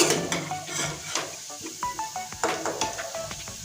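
Potatoes frying in a pan for a vegetarian pea-lentil dish, a close bright sizzle broken by repeated scraping and stirring clinks throughout.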